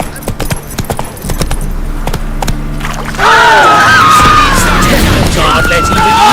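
Horse Roach from The Witcher 3 trots with steady clip-clop hoofbeats, close and prominent, mixed with game music and ambience, and someone speaks over it.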